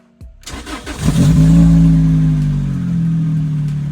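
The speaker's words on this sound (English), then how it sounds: "Starting the car now" A Lotus Elise's 2ZZ-GE engine with a Stage 1 ECU tune cranks a few times, catches and revs up, then settles into a steady, loud idle close by.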